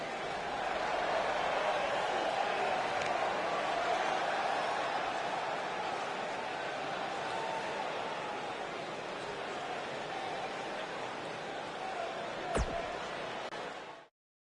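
Live arena crowd in a wrestling video game on PS4 cheers and roars in a steady, loud wash of noise that holds for the full stretch, with a sharp crack near the end before it cuts off.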